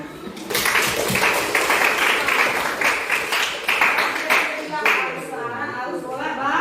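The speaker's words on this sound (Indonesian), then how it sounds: "Tepuk tangan." A classroom group claps hands in a sustained burst of applause, fairly close and even, fading toward the end as a voice begins to speak.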